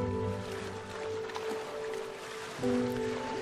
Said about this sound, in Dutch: De Waal doet mee met dat bekende, klotsende, klokkende geluid.